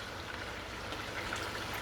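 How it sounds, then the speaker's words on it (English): Water poured into a pot of pork being cooked as Jamaican brown stew, a steady, soft trickling splash that runs the whole time at low level, with no talking. "Okay, so I'm just gonna add some water"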